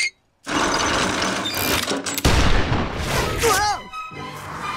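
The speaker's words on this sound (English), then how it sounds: "Is that a machine gun?" Cartoon machine gun rattling in a dense continuous burst from an animated Peter Pan show, loud and close, followed by a boom and a descending whistling tone, with voices underneath.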